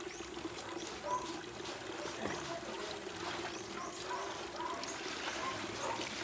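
Water trickles and pours steadily from a village well in Bicol, a faint, continuous, close-up flow with soft splashes.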